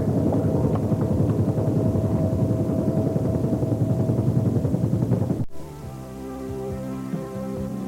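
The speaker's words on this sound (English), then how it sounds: "A maniac buzzing this mansion in a helicopter." A steady, thudding helicopter rotor drone buzzes a mansion, loud and close, then cuts abruptly to a quieter hum with faint tonal bits.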